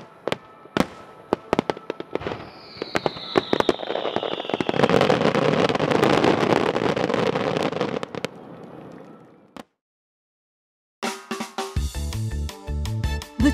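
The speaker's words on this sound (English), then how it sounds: "Countless fireworks illuminate the night sky, including powerful fireworks on the water" Fireworks boom and crackle at a distance over water in Chiba City, a dense rumbling barrage with a rising whistle, then a pause before a burst of music-like tones.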